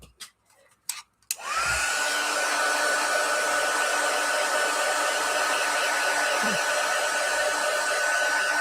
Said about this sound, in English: I'm just going to give it another shot with the heat gun.